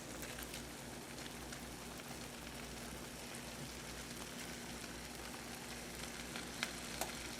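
Tomatoes frying in a pan as part of a frittata give a steady, close, even sizzle that holds throughout, with a couple of faint pops near the end and no voices.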